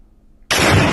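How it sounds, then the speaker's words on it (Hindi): Near-silence, then a sudden loud, broadband bomb blast halfway through that roars on, sustained and heavy, to the end, during an army encounter with militants in Kishtwar, Jammu and Kashmir. "धमाके की आवाज जो है वो सुनाई दे रही है"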